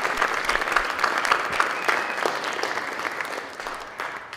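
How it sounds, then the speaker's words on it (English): A round of applause from an audience at a college athletic recognition reception for Pima Community College, dense and sustained clapping throughout that tapers slightly toward the end. "So we should give them a round of applause"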